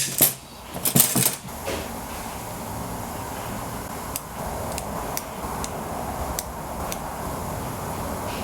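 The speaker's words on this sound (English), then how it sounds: "Hear that? Pretty nice little ratchet" A Gearwrench ratchet clicks in a sparse run of sharp, separate ticks over a steady background hiss, with a few louder knocks and rattles near the start.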